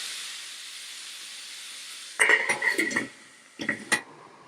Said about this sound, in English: You can see the steam coming out.